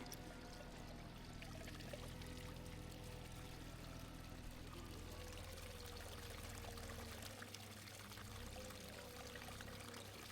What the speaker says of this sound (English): Filling up, still losing a bit of water out there.